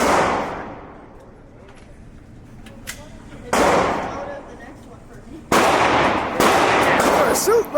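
Gunshots at a gun range: four loud, close blasts, each with a long ringing decay, arrive at uneven intervals, and voices can be heard in between.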